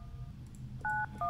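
Telephone keypad dialing tones in the horror game Luto: a few short, clear beeps pressed in quick succession over a low background hum, with no talk.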